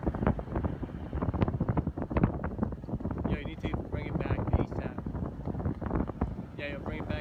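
Strong wind roars and buffets against the microphone of an RVJET FPV RC plane in flight, a loud continuous rumble with voices talking over it.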